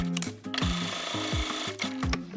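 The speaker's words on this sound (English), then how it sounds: "You can sew this closed on your machine or hand stitch it for a slightly cleaner finish." A sewing machine stitches a small puffy fabric bow closed in short bursts of rapid needle chatter, close up, with brief pauses and the motor winding up and down between them.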